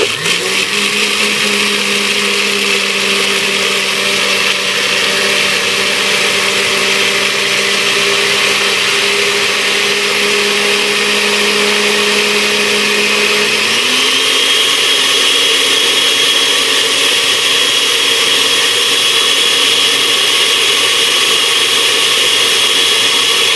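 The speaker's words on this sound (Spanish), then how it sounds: "la licuamos con agüita y tenemos que asegurarnos que quede bien moliditas" A blender grinds castor seeds with water in a loud, steady, high whine that runs continuously throughout, its pitch shifting slightly partway as the load changes.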